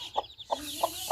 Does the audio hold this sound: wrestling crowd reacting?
no